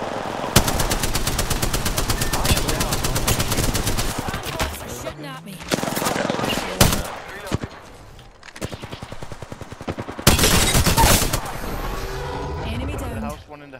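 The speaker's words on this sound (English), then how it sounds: "The enemies are shooting at me." Rapid automatic gunfire from enemies in the video game Apex Legends, dense bursts of loud repeated shots with brief gaps, fairly close and continuous across the stretch.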